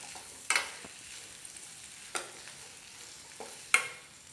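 Tomatoes fry in a pan for tomato sambar under a low, quiet sizzle, broken by a few separate scrapes and knocks of a stirring spoon.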